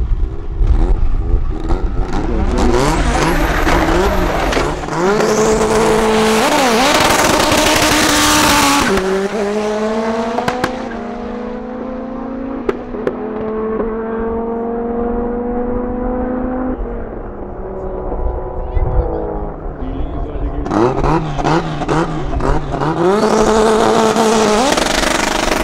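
A VW Golf 2 16V Turbo drag car with about 500 hp accelerating hard at a drag strip: a loud, close engine climbing through gears with rising pitch and brief shift dips.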